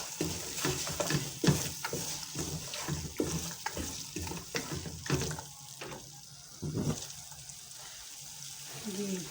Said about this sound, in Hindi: मटरों को भी 2 से 3 मिनट इसके साथ कीमे के साथ अच्छी तरह से फ्राई